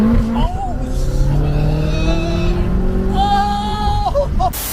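A modified BMW X6M of about 1150 horsepower revs hard and close, its engine whine climbing and falling in loud, sustained pitch sweeps, with people talking over it.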